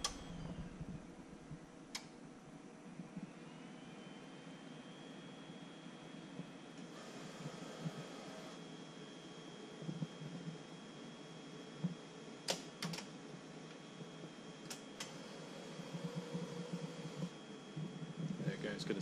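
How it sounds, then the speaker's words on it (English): A Mimaki CJV150/300 print-and-cut machine moving its carriage across to pick up the cutter, giving a low mechanical whir with sharp clicks and ticks scattered throughout, and someone talking over it. "Now it's going to come and get the cutter from the other side,"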